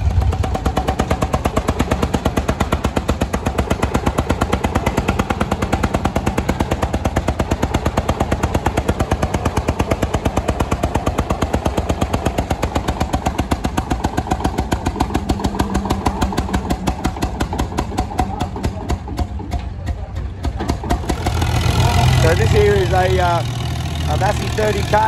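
A vintage Farmall AM tractor engine labours hard at a tractor pull, a loud, rapid, throbbing chug that holds steady for over twenty seconds before easing near the end.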